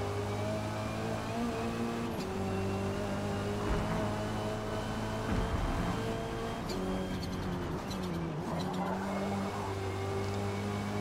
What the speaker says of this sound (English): A bit of tire screech, but it's not too bad.